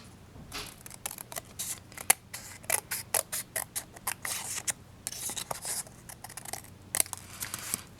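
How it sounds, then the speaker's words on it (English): Quiet, rapid snipping of scissors cutting through card, a string of small crisp cuts with brief pauses, close up and without speech. "Just using my scissors to trim up that edge."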